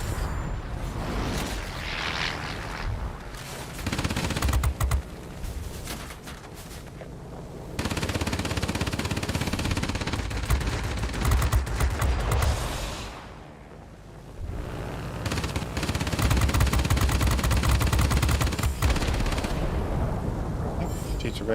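Rapid aircraft machine-gun fire and engine roar fill a dogfight in the video game World of Warplanes, with a P-61 Black Widow and a bomber, loud and continuous with a brief lull midway.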